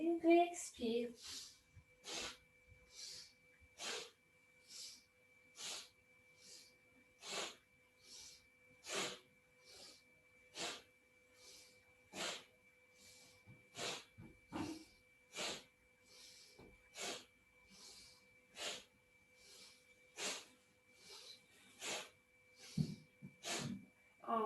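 Rapid, rhythmic forced breaths during a yoga breathing exercise, about twenty sharp inhale-exhale bursts in a steady pulse, close and fairly quiet.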